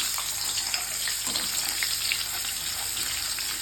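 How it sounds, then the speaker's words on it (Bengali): Onions frying lightly in hot oil, a steady, close sizzle that hisses evenly throughout with faint stirring beneath and no talk. "একটু পেঁয়াজ দিয়ে নেবো, ভেজে নেবো হালকা পেঁয়াজ"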